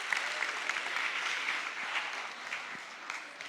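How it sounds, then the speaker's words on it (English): An event audience claps in a steady, moderately faint wash of applause lasting a few seconds, with no voices over it. "Give her a huge round of applause."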